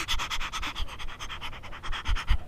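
A man imitates a dog panting, with quick breathy huffs repeating in a fast even rhythm, soft and close, with no speech.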